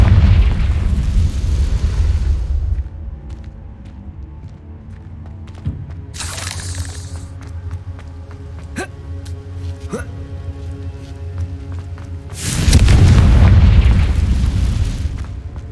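Confringo fire spell blasts in the Hogwarts Legacy video game: a loud booming burst at the start, a sharp crackling hit midway, and another heavy roaring explosion near the end, with ringing game music and effects between them.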